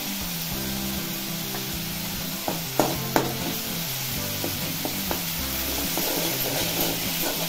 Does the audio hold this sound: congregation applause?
no